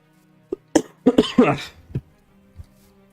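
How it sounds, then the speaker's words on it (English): A run of close, loud coughs into an unmuted microphone during a livestream, several sharp bursts clustered together followed by a softer one. "I just coughed without muting."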